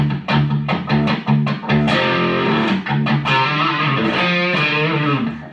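A mellow 2004 Paul Reed Smith McCarty electric guitar through a Bogner Uber Show amp with light overdrive plays chords and single notes, full and steady, close up with no talking.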